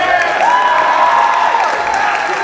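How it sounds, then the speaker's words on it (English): A high school crowd applauds steadily and fairly loudly at a signing ceremony for Jake Zapata, the clapping blending with a sustained tone and scattered voices. "Keep that applause going as we welcome the man of the hour to the podium to say a few words."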